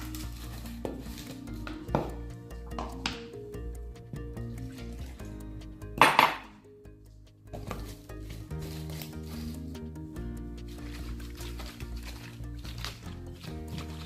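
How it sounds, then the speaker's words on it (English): Wet pancake ingredients for gluten-free oatmeal pancakes poured from a bowl into a blender jar, with soft rubbing, clinking utensil taps and a quick splash midway, all close up over a steady background hum. "And then add them to the jar."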